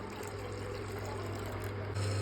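Amul milk is poured into a pot with a soft, steady liquid pour under a low, constant hum, rising slightly near the end.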